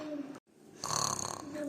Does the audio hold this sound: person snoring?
yes